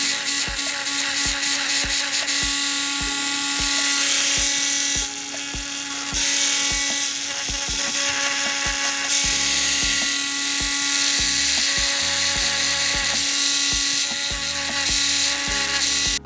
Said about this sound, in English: my rotary tool that is the finest grit and going in and just holding it down to just emulate the same dimples and ripple effect